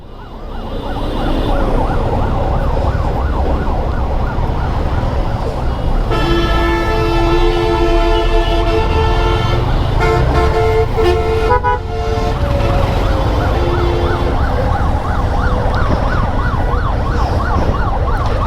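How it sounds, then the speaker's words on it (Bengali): Two ambulances wail with rising and falling sirens while stuck in heavy traffic on a road below a flyover, their tones loud and continuous with horns and engine noise around them throughout. "দুটো অ্যাম্বুলেন্স পিছনে বামে নাও অ্যাম্বুলেন্স দুটো বেরোতে পারে"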